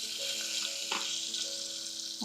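Curry leaves hit hot tempering oil with a bright, crackling sizzle that holds steady, broken by a few sharp pops and spits. Close and fairly quiet, no talking, in a home kitchen making bhagara rice.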